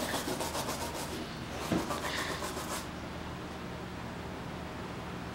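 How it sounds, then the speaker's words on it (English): A salvaged piston from a 1977 Honda Trail 90 motorcycle is scrubbed clean with gasoline, giving a steady close rubbing and rasping wash of noise with a quick rhythmic scrub early on. "We're using a little gas to help clean up this piston."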